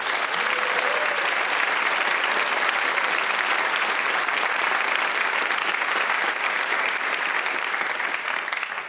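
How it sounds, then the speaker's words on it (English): A large radio theatre audience applauds loudly and continuously, a dense, steady roar of clapping with no voices standing out. "our Radio Theatre audience can be relied on to reward you with this absolute Wurlitzer-beating round of applause"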